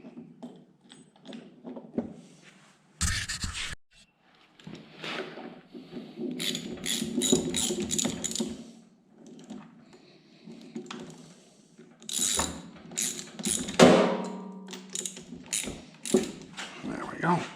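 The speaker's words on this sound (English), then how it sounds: "I'm gonna have to go get a ratchet." A ratchet wrench clicks in short, irregular bursts of rapid pawl ticking while tightening a part on a homemade magneto charger, with pauses, a few louder clunks and occasional faint talking.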